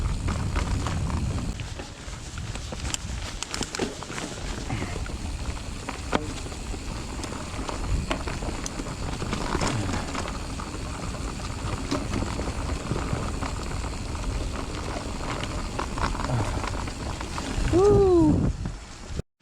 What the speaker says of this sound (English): it's properly started raining now